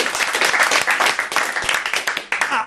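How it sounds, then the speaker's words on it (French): Studio audience applause on a French television talk show, a dense burst of many hands clapping close and loud for under three seconds, faint voices mixed in. "On vous applaudit, merci à vous."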